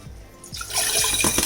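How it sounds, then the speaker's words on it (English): Water pours from a tap into a container holding rice, a steady close splashing that builds and thickens over a second and a half, with no voices. "I'm just putting enough water to get this rice out of this container"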